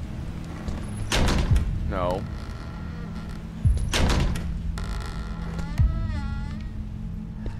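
Doors being shut inside a house in a horror video game, three sharp low thuds spaced a couple of seconds apart, each followed by creaking and eerie tonal sounds, with background hum and a voice speaking between them.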